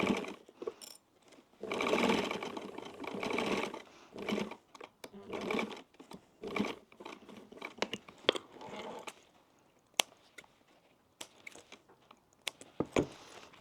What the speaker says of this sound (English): And we're going to sew down there.